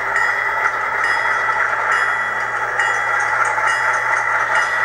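P42 Genesis model locomotive fitted with DCC sound, its diesel engine held at a steady revved-up drone with a faint rattle, continuous and close, no voices.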